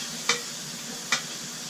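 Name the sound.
ham sizzling while being stirred in pot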